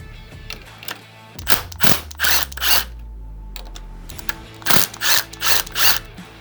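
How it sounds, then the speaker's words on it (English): A ratchet with a 1/2-inch socket works bolts loose from a Herman Miller Aeron Classic chair arm, giving loud, close bursts of rapid clicking in uneven groups separated by brief pauses. "Next step is removing these 2 bolts here with your 1/2-inch socket."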